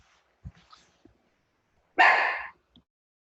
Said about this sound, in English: Apologies for the little doggy.